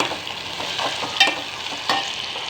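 A tomato sizzles and crackles in a hot pan of oil with garlic, curry leaves, onion and green chili for masala dal. The frying is steady, with a few louder pops and stirring scrapes.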